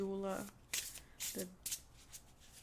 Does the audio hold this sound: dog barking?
no